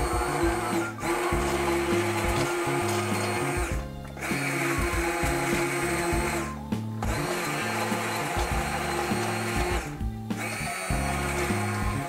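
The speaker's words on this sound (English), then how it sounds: "now it's time to mix them all up and shred them with this handheld shredder" A handheld immersion blender purees butternut squash soup in a pot, its motor whirring loudly in bursts with several brief pauses and changes in load.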